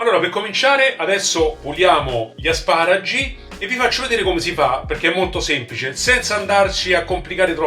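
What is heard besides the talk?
No everyday noise stands out behind the speech.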